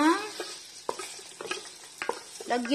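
Meat fries in hot oil in a pan, a close sizzle with stirring and scraping of a utensil, and a few sharper clacks scattered through it.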